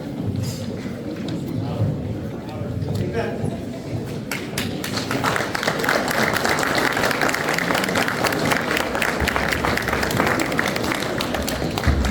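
Audience at a volunteer award appreciation ceremony breaks into applause, a thin patter building into a steady, full wash of clapping from a large crowd that carries on evenly throughout.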